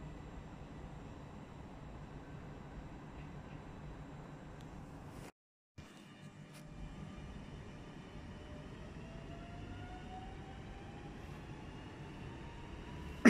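A train at Passau main station moving off toward the shunting yard, a steady low rumble and rolling hum that drops out briefly, then returns with faint rising tonal whines.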